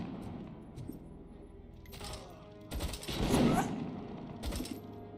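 Sniper shots and heavy 50 cal fire hit in the video game RoboCop: Rogue City, loud booming bursts with crackling impacts over a low mechanical hum, swelling to a dense barrage midway.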